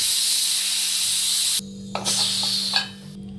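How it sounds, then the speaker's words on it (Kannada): A pressure cooker full of spicy chicken biryani vents steam in a loud, steady hiss that cuts off abruptly, followed by a few fainter sputtering bursts and clicks close by. "ಈಗ ಇದು 2 ವಿಷಲ್ ಬಂದ್ಬಿಡ್ಲಿ"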